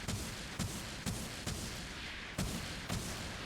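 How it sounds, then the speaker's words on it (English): Beam rifle hip fire shots in the Gundam Evolution video game, six evenly spaced booming blasts roughly half a second apart over a steady hum, loud and close, with no talk. "We have the less accurate hip fire here"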